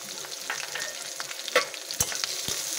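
Green chillies and onion fry in oil with cumin seeds, bay leaf and dried red chillies: a close, continuous crackling sizzle marked by a few distinct spatula taps and stirring knocks.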